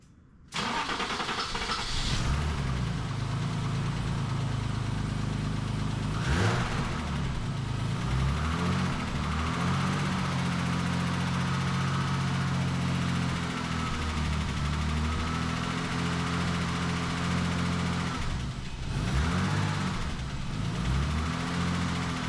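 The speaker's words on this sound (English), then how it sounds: "Since the car wasn't keeping it idle, I decided to try and run it at a little bit of a raised RPM." A BMW E24 that had not been running cranks and catches, then its engine holds a steady, raised-RPM drone with a couple of brief dips and surges, close and loud, with no talking.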